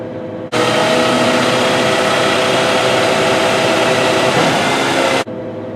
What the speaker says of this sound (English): To raise the suspension, we will select the up button, and now the suspension is raising.